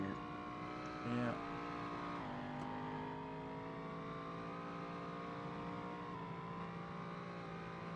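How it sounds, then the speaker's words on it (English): A car engine in the DayZ game hums at a steady drone while driving, with one brief rev near the start and slight pitch shifts, a fairly quiet vehicle under occasional talk. "Another reason I like this car is because it isn't so darn loud that you want to deafen yourself when you're driving it."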